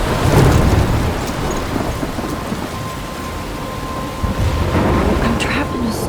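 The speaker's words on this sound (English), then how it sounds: "I'm trapped in a storm?" Thunderstorm with steady heavy rain and rolling thunder in the Life Is Strange video game, a dense continuous roar with a louder rumble near the start and again toward the end.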